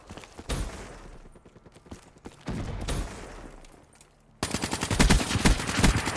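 Gunfire in Call of Duty: Black Ops 3 free-for-all play, with loud bursts of rapid automatic shots from a KN-44 rifle separated by brief lulls, ending in a sustained close burst.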